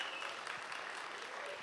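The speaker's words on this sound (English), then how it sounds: "please give yourselves a round of applause" A conference audience applauds at the close of a Mac admins event, a steady wash of many hands clapping together, fairly loud and continuous with no voices over it.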